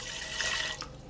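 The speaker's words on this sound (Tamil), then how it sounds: "வாட்டர் ஆட் பண்ண போகிறேன்." Tap water running and splashing as it is added to washed toor dal for dal gravy in an Instant Pot, a steady close hiss lasting about a second with no talking.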